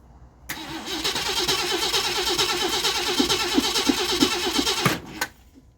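An engine cranks for several seconds with a steady, rapid chugging rhythm, loud and close, trying to start before cutting off abruptly.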